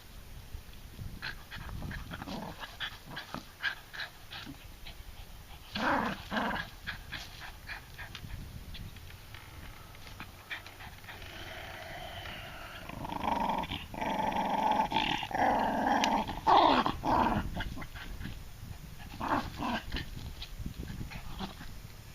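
A tired female dog pants in rapid rhythmic breaths close by, breaking into low rumbling growls now and then, with a louder stretch of growling near the middle.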